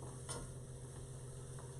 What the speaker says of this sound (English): You can see it's already, or here it's already sizzling.